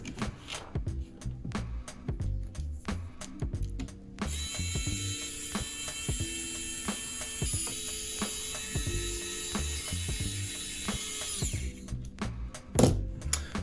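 Screws being driven into a 2.5 inch cinewhoop drone frame with a small driver, a steady ratcheting, clicking mechanical chatter with a brief higher whine partway through, close and alone without talk.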